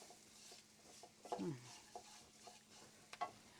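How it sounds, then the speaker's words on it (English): Quiet sizzling of food frying in a pan, with a few light clinks and scrapes of a utensil stirring. "See, just frying."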